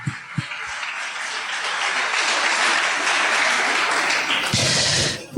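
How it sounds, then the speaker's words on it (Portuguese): A church congregation applauds together, a dense, steady wash of clapping that swells and holds close and loud for several seconds, with a few sharper claps standing out near the start and end. "Vamos aplaudir, né?"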